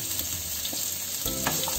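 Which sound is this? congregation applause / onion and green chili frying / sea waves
onion and green chili frying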